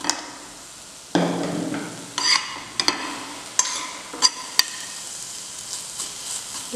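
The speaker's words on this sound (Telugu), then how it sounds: "పచ్చివాసన పోయేదాకా వేపుకోవాలి." Ingredients for carrot chutney, including tamarind, fry in a pan, with sharp scraping stir strokes every second or so over a low, steady sizzle, close and fairly loud.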